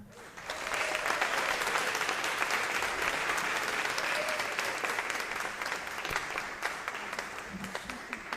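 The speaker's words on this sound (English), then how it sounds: "One more round of applause for our science fair winners." Applause for science fair winners at a school board of education meeting, a dense round of clapping that rises quickly and holds steady, fairly distant and moderately loud, with no one talking over it.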